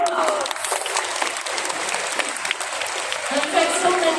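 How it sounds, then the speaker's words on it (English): An audience applauds a parrot demonstration at a Singapore bird park, dense clapping filling the whole stretch at steady moderate loudness, with a few faint voices mixed in. "Round of applause."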